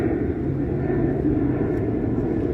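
An airplane flies overhead during an outdoor college tennis championship, a steady droning rumble that holds for the whole stretch without speech or breaks.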